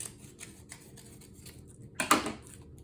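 Paper for a mini album page is cut with a short, close crisp snip near the end, after a few faint light ticks and taps.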